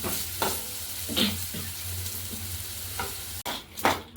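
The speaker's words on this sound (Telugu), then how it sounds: "ఇదిగోండి ఇలా వేయించుకోవాలండి. కొంచెం కొబ్బరి ముక్కలు పచ్చిమిరపకాయలు కొంచెం కలర్ మారాలి." Coconut pieces and green chilies fry in a pan with a steady close sizzle. Occasional stirring scrapes and soft clinks sound over it.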